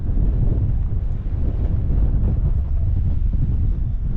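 Strong wind buffets the microphone on a hilltop in Malta, a steady, loud, low roar that runs unbroken throughout, with no voices.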